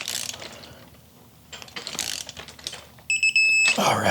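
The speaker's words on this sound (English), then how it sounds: "So I'm going to tighten it down now to 61 foot-pounds." A hand ratchet tightens a suspension bolt on a KX250 dirt bike to 61 foot-pounds, giving runs of close, crisp clicking bursts with brief pauses between them.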